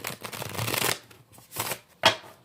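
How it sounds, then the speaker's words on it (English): A large tarot card deck shuffled by hand: three bursts of riffling and shuffling card sounds, a long first one followed by two shorter ones, close and fairly quiet, with no talking. "Sometimes I shuffle a different way, but Spirit is telling me to shuffle it this way."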